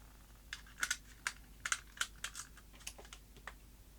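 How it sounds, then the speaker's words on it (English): A screwdriver works on the plastic shell of an 8mm video cassette, giving quiet, close, irregular clicks and small taps in short clusters, with no one speaking. "I'm going to start by taking the tape apart with my favourite screwdriver set."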